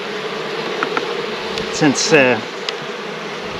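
Honey bees buzz around an open hive while supers are being added, a close, continuous hum with single bees droning past, and a person speaks briefly over it.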